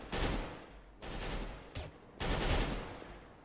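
Automatic gunfire in the video game Counter-Strike: Global Offensive, three loud bursts of rapid shots with short gaps between, close and harsh.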